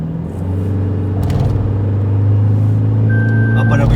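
A stage 2 tuned Toyota Fortuner pulls hard in third gear, its deep engine drone loud and steady from inside the cabin, with people talking over it.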